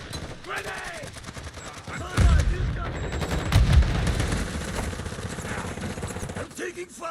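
Video game gunfire with rapid machine-gun bursts and heavy booming impacts, loud and close, running under a voice talking throughout.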